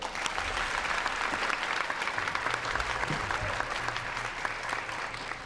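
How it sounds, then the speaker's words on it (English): An indoor audience claps in a dense, steady round of applause at a live event, moderately loud and continuous throughout, with no voices standing out. "So I think we should give Julian and his team a round of applause for all the work they've done."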